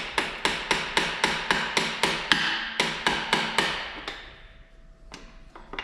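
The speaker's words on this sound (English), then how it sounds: "We may get a piece of wood here and pop the bottom side of the piston." A piece of wood is hammered against the underside of a piston from a blown 5.3L V8 engine: about fifteen loud, sharp, evenly spaced blows, then a pause and a few lighter taps, with no talking.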